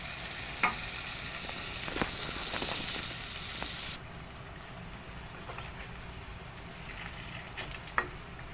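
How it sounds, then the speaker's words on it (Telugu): Koboz aruk pieces deep frying in oil in a kadai give a soft continuous bubbling sizzle, with a few sharper pops and crackles standing out now and then. "ఒక కళాయి పెట్టి దాంట్లో ఆయిల్ వేసుకుని ఇంకా ఇలా చేసుకుని డీప్ ఫ్రై చేసుకోవాలి"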